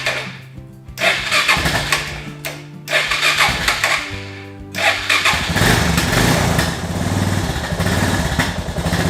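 A Suzuki DR650 motorcycle engine cranks in short bursts, catches and settles into a loud, steady idle close by, with no talking over it.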